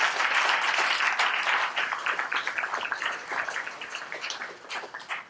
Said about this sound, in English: please give a round of applause for all the women in here